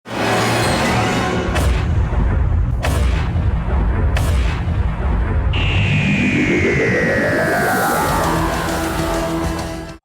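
Doctor Who 'to be continued' sting, slowed down roughly so it sounds glitchy and full of artifacts: a loud, dense rumbling wash with a few sharp hits, then a long sweeping descending tone that rises out of the noise.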